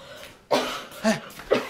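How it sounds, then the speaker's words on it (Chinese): A person coughing three times in quick succession, close and fairly loud, each cough a short harsh burst with brief pauses between. "你怎么咳嗽了？"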